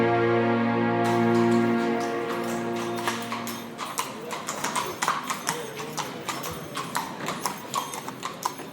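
Horses' hooves clip-clopping in a steady rhythm on hard ground, close and distinct, after a sustained musical tone fades out.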